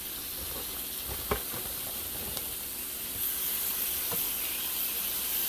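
Steak sizzling in a pan on a home hibachi-style setup, a steady close hiss with a couple of brief clicks, growing slightly louder in the second half.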